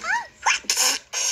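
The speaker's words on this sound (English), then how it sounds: "Oh dear, Tombliboo is going to sneeze." A cartoon character from the children's show In the Night Garden lets out a theatrical sneeze: a rising, wavering build-up of breathy gasps followed by two loud, sharp bursts of the sneeze, close and clear, with no talk over it.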